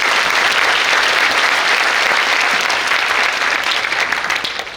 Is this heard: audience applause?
yes